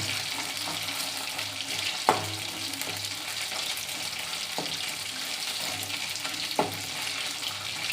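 Chicken pakodi deep frying in hot oil, a dense continuous sizzle and crackle filling the whole stretch, with a few sharp clinks of a utensil against the pan, close and steady.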